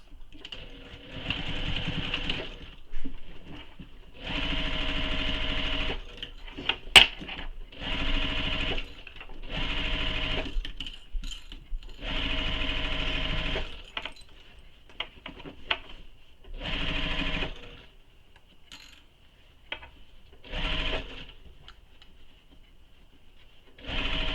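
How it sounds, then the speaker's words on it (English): A sewing machine stitches along the long edge of a tote bag in a series of steady whirring runs of a second or several, each separated by short pauses, heard up close with no talking. "Sew that long edge again, starting and stopping at those marks"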